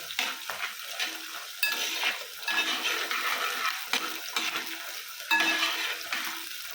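Green chillies fry and crackle in hot oil in a pan for mango pickle, with a close, steady sizzle and repeated scraping strokes as a spoon stirs them.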